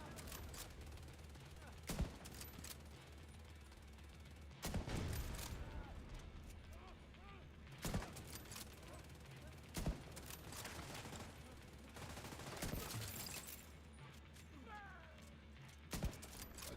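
Gunfire in the video game Tom Clancy's The Division 2: sharp single shots spaced every few seconds, with bursts of louder firing, a cat-like cry, and quiet talk heard faintly underneath.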